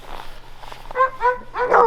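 Hunting dogs bark in a few short, close yelps that grow louder toward the end, with quiet background noise between them.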